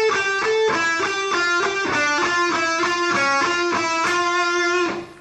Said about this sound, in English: this descending kind of run sounds like this